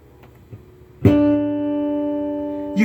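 A precision bass with a P pickup rings out one loud, sustained note, close and clear, after a second of quiet handling noise, with a fresh pluck near the end.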